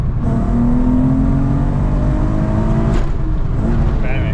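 A six-speed Type S car pulls hard in second gear, its engine note climbing steadily and loudly from near the microphone, with a brief shift-like break near the end.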